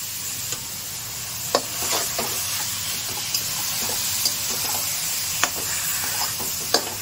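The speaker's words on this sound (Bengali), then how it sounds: "একটু গাজরটা না সুন্দর ঘিয়ে ভাজা হবে" Grated carrot frying in hot ghee for carrot halwa, a steady close sizzle broken by repeated sharp scrapes and clatters of stirring in the pan.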